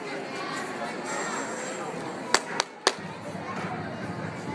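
A person's claps ring out as three sharp, separate cracks in quick succession, standing out over a steady crowd murmur and background chatter.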